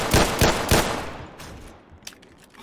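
Gunfire from the Roblox World War I game Trench Warfare: three sharp, loud shots roughly a third of a second apart, then fainter distant shots and a small crack as the sound dies away.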